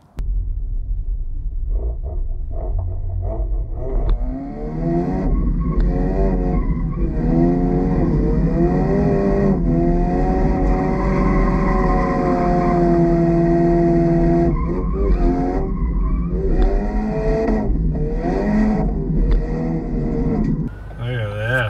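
A Ford Focus RS engine roars while tires squeal in long, wavering screeches as the car drifts, loud and sustained with brief pauses.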